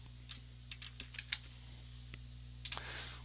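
Keys clacking on a computer keyboard while entering a symbol search in mapping software, a few sparse clicks and short bursts over a steady low hum, quiet and close.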